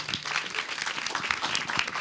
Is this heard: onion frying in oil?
no